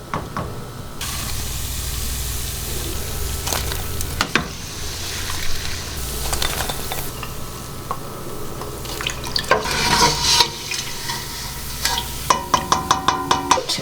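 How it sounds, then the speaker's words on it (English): A spoon scrapes and stirs through hot rendering beef tallow, lifting out crispy cracklings amid a steady sizzle, with sharp clinks against the pot growing more frequent toward the end. "So I'm just gonna scoop these out before I strain the tallow."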